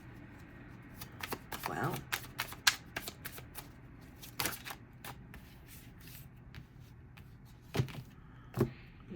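Tarot cards shuffled and dealt onto a table in a series of crisp riffles and soft slaps, close and fairly quiet, with a brief spoken exclamation.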